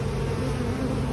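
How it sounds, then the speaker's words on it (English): Honey bees buzzing inside an open hive during a September inspection, a dense, steady drone close by with no talk over it. "there's a lot of bees"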